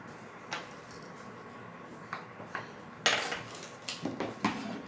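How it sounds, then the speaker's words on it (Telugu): Scissors snipping through silk lining fabric while a blouse is cut out for a pattu lehenga, giving a few sharp, close clicks and crunches spaced irregularly in a quiet room. "ఇప్పుడు మనం బ్లౌజ్ కూడా కటింగ్ వేద్దాము."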